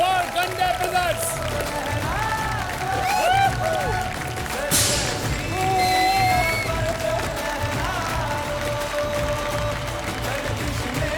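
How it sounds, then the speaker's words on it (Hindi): A television cooking competition studio audience applauds and cheers, with whoops and voices mixed into the steady clapping. "तालियां और पीटो"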